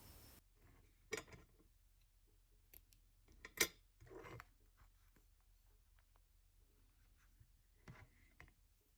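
A few quiet, separate snips of scissors trimming thread tails on a polymer clay project, each crisp cut standing alone against a near-silent background.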